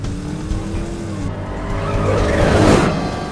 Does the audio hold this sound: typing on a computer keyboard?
no